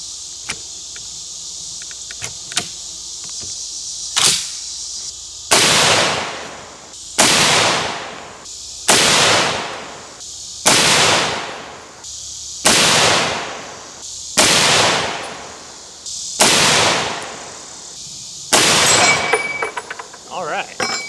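An M1 Garand rifle fires handloaded ammunition outdoors: about eight loud, sharp reports spaced at steady intervals, each with a ringing decay, followed by a brief metallic clatter at the end.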